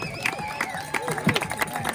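A crowd at a trail running camp at the Trapp Family Lodge in Stowe, Vermont, cheers and claps for finishing runners: close, lively shouts and whoops over scattered hand claps for about two seconds, with voices mixed in.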